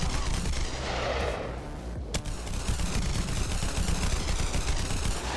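Two Glock BMG guns with 500-round magazines firing at once in BONELAB, a loud, dense and unbroken stream of rapid automatic shots that runs the whole time, with one sharp crack standing out partway through.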